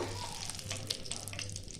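Two bay leaves go into hot oil in a pan where chicken has just been fried, and they give off a steady, soft sizzle with small crackles and pops over a low hum.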